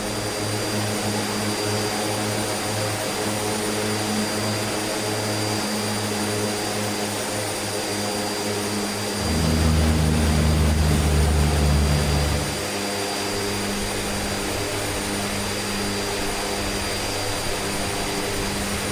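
DHC-6 Twin Otter turboprop engines and propellers moving into beta range while backtracking a runway in Microsoft Flight Simulator: a steady droning hum that swells deeper and louder for about three seconds midway, then settles back to its earlier level.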